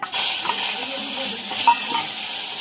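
Prawns frying in hot oil with mustard seeds, stirred with a ladle; a loud, even hiss of sizzling fills the pan with faint scraping now and then, close up and without speech.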